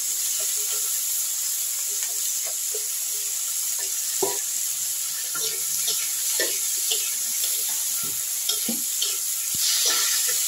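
Chopped potatoes and reddened onion fry in a pan for a chachchari, a steady close sizzle with scattered crackles and soft stirring scrapes throughout.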